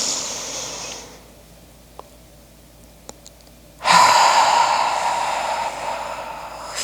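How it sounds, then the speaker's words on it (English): A slow, deep breath drawn in through the nose during a yoga session, a soft near airy hiss that fades to quiet, followed by a louder, sustained rushing exhale. "Inhale, fill the belly through the nose."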